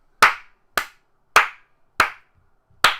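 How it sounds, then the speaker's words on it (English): Five single, sharp claps from one person, spaced evenly about half a second apart in a slow, deliberate rhythm, close and crisp against silence. "Soul clap for your son, Marcy."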